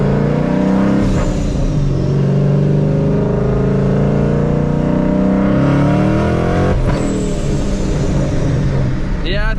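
A Paxton-supercharged S197 Ford Mustang engine roars steadily and loudly close by, pitch rising and falling through revs, with a sharp change around the middle and voices partly under it.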